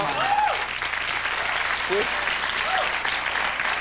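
A studio audience at a television talk show applauds steadily throughout, close and sustained, with brief voices and whoops rising over the clapping.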